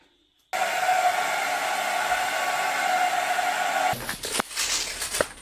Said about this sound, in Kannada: ಸ್ವಲ್ಪ ತಲೆ ಡ್ರೈ ಮಾಡಬೇಕು